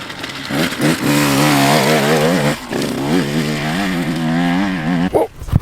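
Motocross bike ridden through a corner, its engine loud and close with a steady high rev that wavers in pitch as the rider works the throttle, then drops off sharply near the end.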